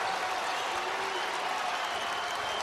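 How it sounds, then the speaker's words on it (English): A home crowd at a Butler versus Boise State college basketball game applauds and cheers in a sustained, dense roar, heard somewhat distant and even in level for the whole stretch. "The crowd is on its feet"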